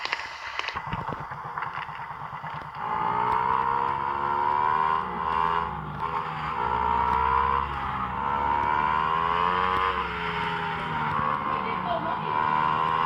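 A motorcycle engine idling and revving on a Brazilian street, a close, steady droning hum that rises and falls in pitch, preceded by a brief burst of rustling and handling noise.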